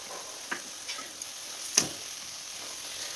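Grated carrot for halwa stir-fried with sugar in a pan, with a faint, steady sizzle and light scraping and tapping of a spoon at irregular intervals.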